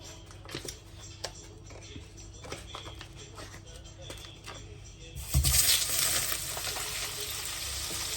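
Butter hitting a very hot pan for mushroom butter masala, a sudden loud sizzle bursting up after a few quiet seconds of faint clinks and background noise, then a steady crackling fry that holds to the end.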